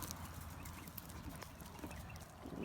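Horses' hooves clip-clop in a steady stream of dull thuds outdoors, close and fairly loud under a dense wash of rustling and wind-like noise.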